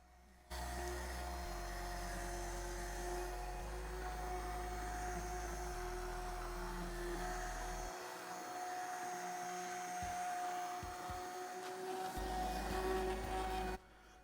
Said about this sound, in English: So what we're doing right now is I am pureeing this mix.